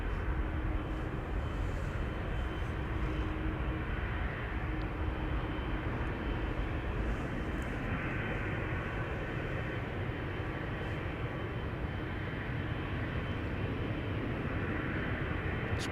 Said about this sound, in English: Thought I was hearing a turboprop.